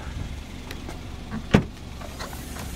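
A small car's boot releases with a single sharp latch click and thump, set against a low steady idle-like background rumble with no talk.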